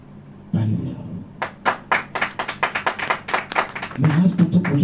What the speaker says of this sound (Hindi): ताली बजाओ।